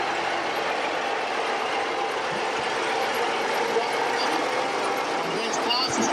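A 1966 24-volt four-wheel-steer tractor rolls by in a homecoming parade in Manitoba, a steady mechanical engine rumble and clatter that stays loud and continuous throughout.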